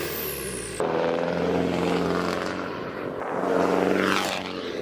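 A tuned Chevy Colorado ZR2 diesel revs at high RPM with a coarse, buzzy, droning engine note, loud and continuous, its pitch climbing and swelling toward the end.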